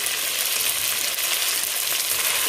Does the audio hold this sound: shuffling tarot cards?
no